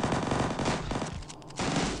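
Rapid bursts of gunfire from the video game Zombie Forest HD, loud and dense automatic fire with no talk, dropping briefly before resuming.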